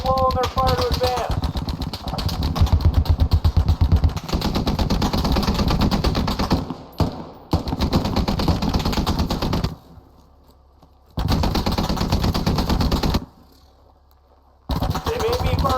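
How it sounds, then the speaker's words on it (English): Automatic gunfire from machine guns rattles in a Squad training exercise, bursts of rapid loud shots with an engine-like drone, broken by abrupt silent gaps before firing resumes. "Suppress the enemy machine gun positions and use the lull in their fire to advance."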